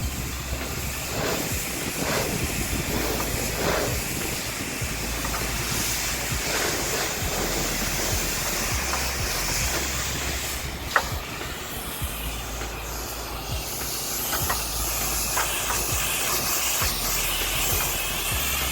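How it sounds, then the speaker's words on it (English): A billboard is sprayed with cleaner and washed off, giving a steady, broad rushing hiss of water spray that runs continuously, with a single sharp knock partway through. "It's really just been a lot of spraying it on and washing it off."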